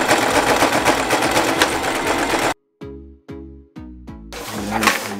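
An electric sewing machine stitches a sailcloth bag during a repair in a workshop, running in a steady loud whir, then in several short separate bursts with pauses, then whirring again.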